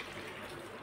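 Water is poured off washed leaves of a wild vine in a home kitchen, a soft, steady stream of splashing running liquid, quiet and brief.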